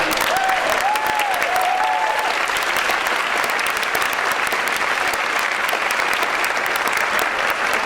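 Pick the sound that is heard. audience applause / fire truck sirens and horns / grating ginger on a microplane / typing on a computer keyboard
audience applause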